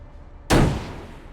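A single sharp shot from the cannon of an M1917 light tank in a video game, a sudden loud crack with a short booming decay, alone against quiet background.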